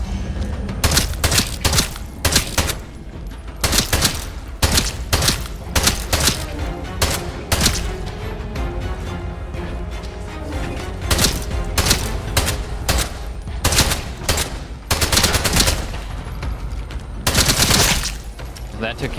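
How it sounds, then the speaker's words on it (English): Submachine gun fire in the Atomfall video game, loud rapid bursts of shots repeating in clusters across the whole stretch with brief gaps between volleys. "SMG time, baby."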